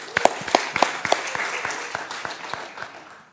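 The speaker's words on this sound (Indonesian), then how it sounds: "Kita beri aplaus dulu untuk Ibu Tisha dulu." An audience at an Indonesian press conference about the 2023 U17 World Cup claps and applauds, with a few crisp individual claps standing out before the applause settles into a steadier patter.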